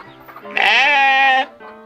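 A rooster crows once in the middle, a loud, drawn-out call rising then holding steady before cutting off, heard nearby at a Caribbean island stop on St. John in the U.S. Virgin Islands.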